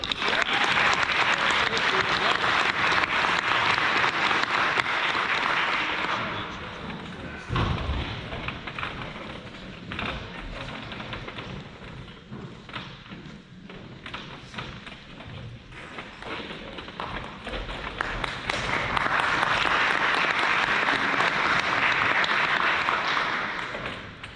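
Audience applause for a Knights of Columbus scholarship recipient at a senior awards night, loud dense clapping that thins in the middle with scattered thumps and footsteps, then swells again.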